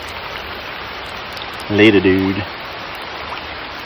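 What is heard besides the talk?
rain falling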